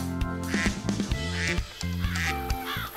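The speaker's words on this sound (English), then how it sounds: "Quack, quack." A duck quacks near a pond on a farm, with repeated loud nasal calls coming in short bursts across the clip.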